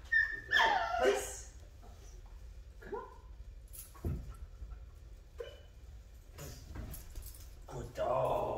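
A dog whimpers and yips in high, wavering bursts close by, with a few squeaky cries spread across a quiet room while people talk.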